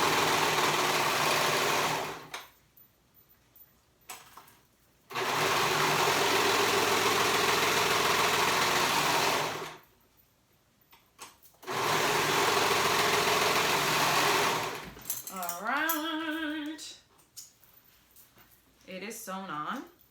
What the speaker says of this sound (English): I'm just gonna serge